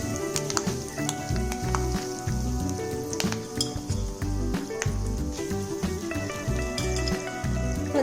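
Okra frying in a pan with curry leaves added, a steady close sizzle and crackle of hot oil with occasional stirring clinks against the pan, continuous throughout.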